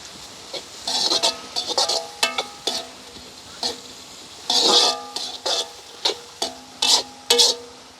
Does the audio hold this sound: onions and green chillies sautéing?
yes